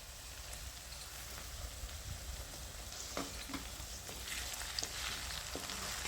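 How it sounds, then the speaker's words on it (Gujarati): Onion and tomato frying in oil in a pan over a low gas flame give a steady, soft sizzle with scattered light crackles and pops, with no voices. "ટમેટા અને ડુંગળીમાંથી તેલ છૂટું ન પડે ત્યાં સુધી એને આપણે પાકવા દઈશું આવી રીતના ધીમા ગેસે"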